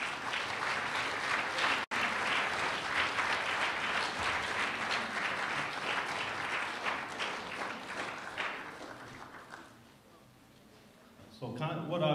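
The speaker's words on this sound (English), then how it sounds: "So let's give them a big round of applause." Sustained applause from a crowd at a sports banquet, loud and continuous for about ten seconds before fading to quiet room tone, with some chatter returning at the end.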